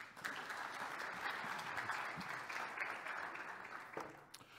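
An audience claps steadily to welcome guests, a dense, sustained round of applause from a crowd in a hall that begins to taper off at the end.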